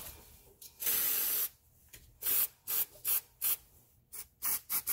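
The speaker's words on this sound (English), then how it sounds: "Don't forget to spray this thing." Aerosol can sprayed onto the rear drum brakes of a 2011 Volkswagen Jetta in a series of sharp hissing bursts, one long and then many short puffs, close and crisp.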